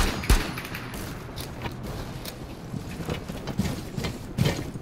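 Video game gunfire crackles in scattered sharp bursts over a noisy background, one strong shot near the start followed by lighter irregular pops and volleys.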